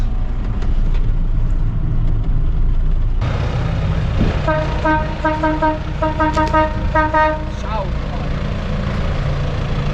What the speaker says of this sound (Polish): Ale fajny jest klakson chociaż.